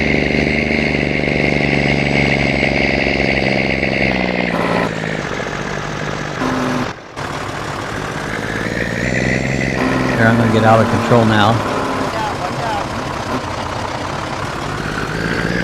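A farm truck idles with a steady low rumble throughout, someone speaking over it; the engine level dips briefly midway and then carries on.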